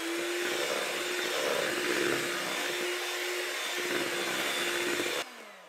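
An electric hand mixer beats cake batter of flour and baking powder at low speed, giving a steady close motor whir with a faint grinding texture that runs for about five seconds and then cuts off abruptly.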